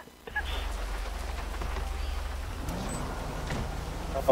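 Rain falls in the Grand Theft Auto Online game world, a steady hiss of rainfall over a low engine hum that starts after a brief quiet moment, with a few scattered game sounds.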